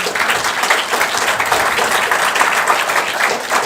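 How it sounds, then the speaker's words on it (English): Hall audience at a women's summit award ceremony breaks into a loud, dense round of clapping that stays steady and full from start to finish, with no voices. "Ladies and gentlemen, a huge round of applause."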